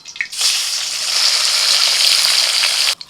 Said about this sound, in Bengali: এবার বাকি মাছগুলোকেও ভেজে নিই।